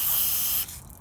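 Aerosol cleaner sprays into the fuel inlet of a Honda HRU 216 self-propelled lawn mower carburettor as a steady close hiss lasting about half a second, then cuts off abruptly, leaving faint mechanical ticking.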